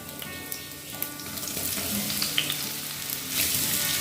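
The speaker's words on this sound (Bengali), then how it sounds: "সর্ষের তেল গরম করে নিয়েছি। দিয়ে দেবো 3টে মতো কুচিয়ে রাখা পেঁয়াজ।" Chopped onion fries in hot mustard oil, making a steady, close sizzle with scattered crackles and pops that grows a little louder toward the end, with no one talking.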